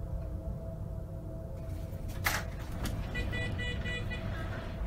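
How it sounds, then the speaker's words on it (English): A car horn sounds in the horror game Morph Girl: brief, faint honks rise over a steady rumble of traffic and engine noise, somewhat distant. "Stop honking at me."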